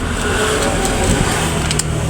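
Motorcycles pass along a busy roadside main road in front of a house, their engines forming a loud, continuous droning rumble that swells slightly as they go by, with no talking.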